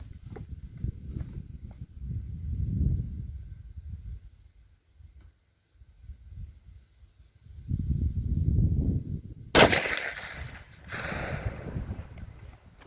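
A CVA single-shot .450 Bushmaster rifle fires one loud, sharp report at a 100-yard range, followed by a short fading echo. Quiet handling and rustling noises come before the shot.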